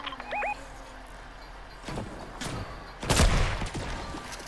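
Gunfire in Fortnite, a few sharp shots cracking out in a quick cluster near the end, with chirpy game effects early on and no talk.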